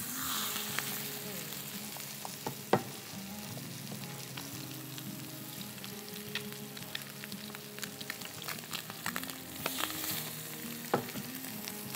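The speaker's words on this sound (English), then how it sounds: "I'm just going to put a little oil in the pan because we want to pan sear it" Chicken pan-searing in oil crackles and sizzles continuously up close, with scattered sharp pops and occasional utensil knocks throughout.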